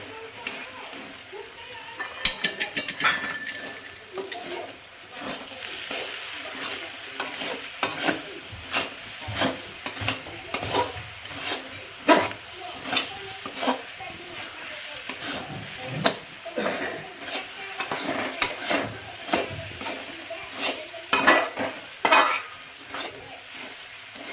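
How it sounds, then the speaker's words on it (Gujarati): Spoon stirring Maggi noodle masala and pulao masala in a pan, a steady soft sizzle with irregular scraping strokes and light clicks throughout, with a voice talking now and then in the background. "તો મિત્રો આને હવે આપણે હલાવી દઈશું"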